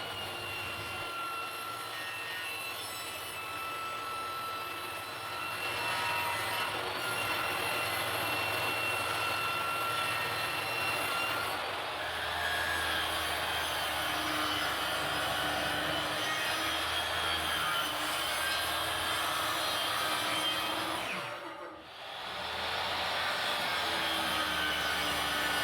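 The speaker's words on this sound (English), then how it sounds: "So I start by cutting the main panel down." A power saw drones steadily through a main wood panel, a loud continuous whine that holds for the whole stretch and dips briefly near the end before resuming.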